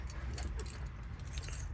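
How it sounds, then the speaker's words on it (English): A set of keys for a 2019 Suzuki Carry refrigerated truck jangles in a continuous metallic rattle close by, over a low rumbling background. "Do have two keys to the vehicle."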